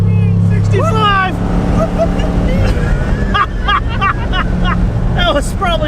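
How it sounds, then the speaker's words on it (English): A limousine engine running on a 100-shot of nitrous, giving a loud, continuous roar heard from inside the car, with people talking over it and whistling, squealing tones rising and falling. "100 shot of nitrous on a limo"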